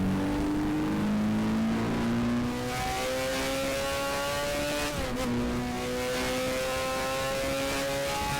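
A race car engine laps Monza in the racing sim GTR2, droning loud and steady as it climbs through the gears, with a brief dip in pitch at a shift before it pulls on again alone.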